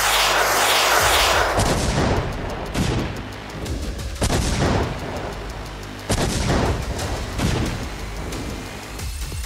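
Artillery guns fire during a large Russian military exercise, a string of deep booming blasts a second or two apart, each with a rolling, echoing tail over continuous rumble.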